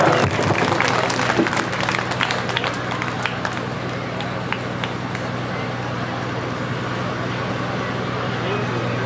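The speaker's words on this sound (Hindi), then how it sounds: "जोरदार तालियां।" An audience at a children's award ceremony claps loudly and steadily in a dense, continuous wash, with a voice talking over part of it.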